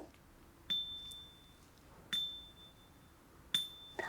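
Three light, high mallet taps on a metal bar at the top of a pitched percussion instrument, each a bright ping that rings briefly, spaced evenly apart and quiet.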